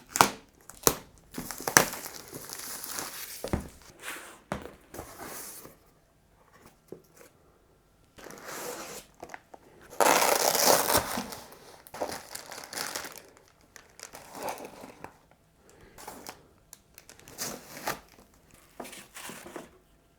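Packaging for a Thermaltake Toughpower SFX power supply crinkles and crunches in bursts of handling noise, with a loud, dense stretch of crumpling midway and quieter rustles around it, no talking.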